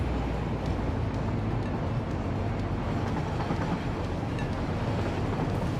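A train in the factory-building game Satisfactory rolls along its rails with a continuous loud, heavy rumble and faint rhythmic clatter, steady and close throughout with no voices.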